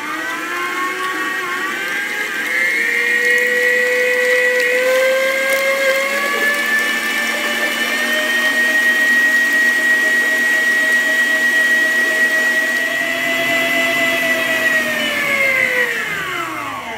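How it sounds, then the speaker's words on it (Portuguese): Electric stand mixer beating eggs for a sponge cake, a steady whirring motor drone with a rising pitch that holds for about fifteen seconds, then winds down near the end; close and loud, no talking. "Vou ligar a minha batedeira e vou bater ele durante 5 minutos."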